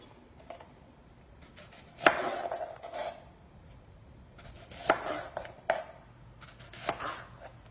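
A knife slices an onion into rings on a cutting board, giving a few sharp, distinct chops spaced irregularly apart, close and clear with no talking.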